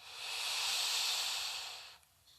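A long, loud breathy inhale like a big yawn during a gentle hatha yoga stretch swells for about two seconds and then trails off into quiet, with no talking.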